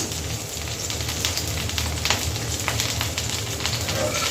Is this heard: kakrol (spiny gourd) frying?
yes